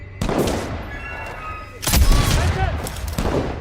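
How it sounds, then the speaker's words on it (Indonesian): Gunfire in an action war film with an enemy sniper shooting, dense bursts of shots and booms filling the clip, loud and close, with a heavier blast partway through. "terlihat sniper musuh yang kembali beraksi dengan menghabisi 2 anak buah Zera"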